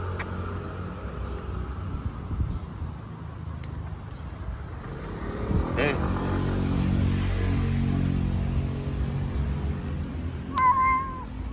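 A pregnant street cat meows a few times, with traffic and a passing car rumbling in the background and a brief high squeal near the end.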